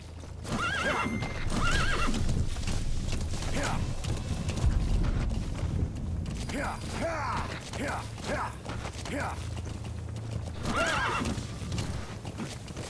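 Clopping hooves beneath repeated horse whinnies from the video game Metal Gear Solid V: The Phantom Pain, several neighs rising and falling over a steady low rumble, with some mechanical creaks.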